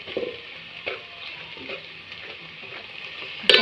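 Red chili powder frying and sizzling in hot oil for a mutton dish: a steady, close hiss with occasional soft stirring scrapes and a sharp clink at the end. No talking.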